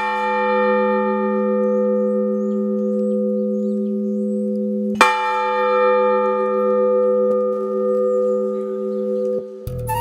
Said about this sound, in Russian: В память о погибших здесь часто бьют в колокол